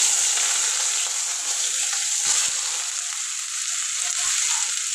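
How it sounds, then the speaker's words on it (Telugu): Cumin, mustard seeds and thinly sliced onion fry in hot oil for an aloo methi curry, a dense continuous close-up sizzle with faint stirring scrapes and no pauses. "అలాగే జీలకర్ర ఆవాలు అట్లా బాగా దోరగా వేగాలి"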